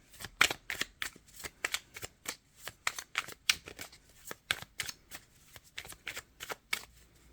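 A deck of tarot cards being shuffled close by, with soft, quiet, papery riffles repeating in a steady rhythm of short bursts.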